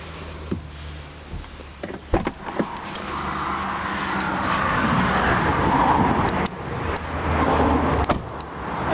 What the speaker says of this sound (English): when I turn off the car, as you can hear, the driver's seat is going back into its default position.